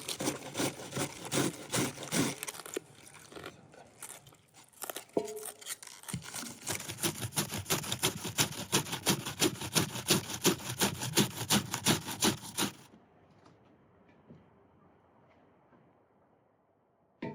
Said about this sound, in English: The sound of slicing cabbage is like breaking ice.